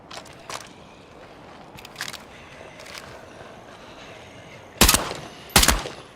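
Video game gunfire: a few faint, distant cracks, then two loud, close shots near the end, with no talking.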